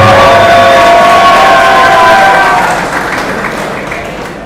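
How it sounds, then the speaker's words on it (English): A crowd at an MMA fight cheers and applauds loudly, a dense burst that peaks early with a whistle and then fades over a few seconds. "He wants some cheers."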